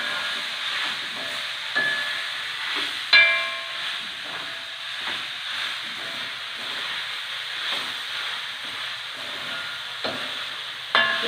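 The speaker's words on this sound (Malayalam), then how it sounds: "ഇളക്കി യോജിപ്പിക്കുക" Cooked rice mixture is stirred in a hot pan over a continuous soft sizzle and steamy hiss, with occasional scrapes and taps of the spoon against the pan.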